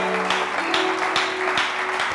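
A church congregation applauds together to acclaim the Lord, with steady dense clapping that carries a few louder swells throughout the short burst and has no voices over it.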